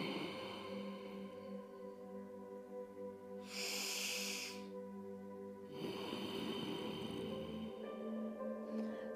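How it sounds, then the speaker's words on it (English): Ujjayi yoga breathing, a snoring-like rasp deep in the throat, with slow drawn-out inhales and exhales close to a microphone over a steady background hum and one sharper hissing exhale midway. "sound like we're snoring deep down in our throat in the microphone, we're doing Ujjayi breath"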